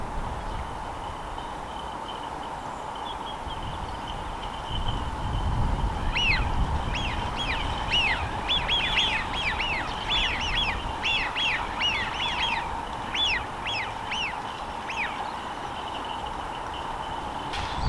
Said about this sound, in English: You just got the sound of the birds, and I'll just leave you with those sounds now.